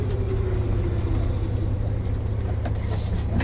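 A car engine idles and rumbles low and steady while the vehicle backs into a parking spot on a residential street near San Diego beaches.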